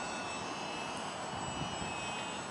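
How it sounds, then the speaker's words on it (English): A STOL short takeoff and landing airplane flying, its engine a faint, steady drone held at an even level throughout, with no voices. "It's a STOL, short takeoff and landing airplane."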